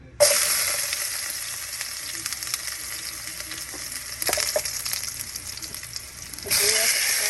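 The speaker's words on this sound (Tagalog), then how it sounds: "Igisa na natin guys ang yung bawang" Garlic sautéing in a pan for sardines with pechay and misua, a loud hissing sizzle that flares at the start, dips, then surges again near the end.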